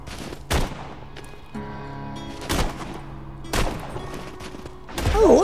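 Grenade launcher fired in Borderlands 2, four sharp booming shots spaced about a second apart, loud and close, with a ringing tone between them.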